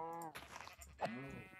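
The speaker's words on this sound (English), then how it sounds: "Oh, and there's the there's the other sheep." Sheep bleating in Minecraft 1.18, two short wavering bleats, quiet and near, one at the start and a slightly louder one about a second later.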